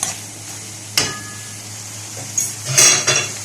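A lid set down on a clay tajine of okra and meat, giving a short ceramic clink at about one second, then a cluster of louder clattering knocks near the end against a low steady kitchen hum.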